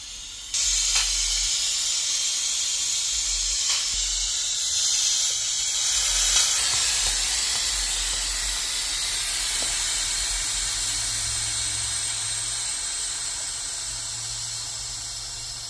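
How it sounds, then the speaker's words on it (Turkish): Steam hisses steadily from the valve of a Karaca Quick and Safe pressure cooker cooking borlotti beans, a loud, continuous high squealing release that tapers slightly over its length, with no talking. "Yaklaşık 3 dakika kala buharını yavaş yavaş kademe kademe boşalttım."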